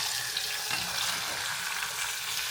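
Tomatoes are dropped straight into hot oil for a brinjal curry gravy and make a continuous, close, loud crackling sizzle that stays steady throughout.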